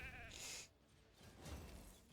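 A sheep bleats in a video game, a clear wavering bleat in the first second, then low game sounds and background effects continue faintly.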